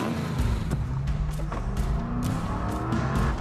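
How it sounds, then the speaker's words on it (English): A car engine roars loudly and steadily as the vehicle speeds away, with a few brief tire or gear clicks cutting through the continuous rumble. "Wow, that sounds like a fast takeoff."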